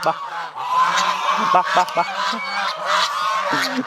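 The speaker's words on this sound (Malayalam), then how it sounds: "ഇതിനകത്ത് വളർത്തുന്ന ഗൂസാണ് കേട്ടോ" Geese raised on a farm honk repeatedly and close by, loud nasal calls in irregular bursts over a background of other farm birds.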